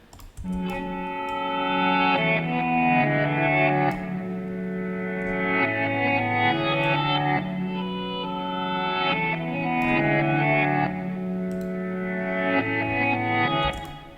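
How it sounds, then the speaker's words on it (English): A looping melodic music sample for a UK drill beat, thick and sustained, bathed in reverb that smears each chord into a washy, echoing tail; no voices. "Throw a little bit of reverb on here."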